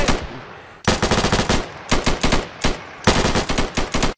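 Automatic gunfire in the video game Unturned rattles out in loud, close bursts separated by short pauses, with no voices.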